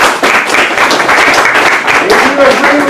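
An audience at a Santa Cruz public meeting on homelessness claps and applauds, a dense, steady wash of hands through the whole stretch, loud and close, with voices mixed into the crowd noise.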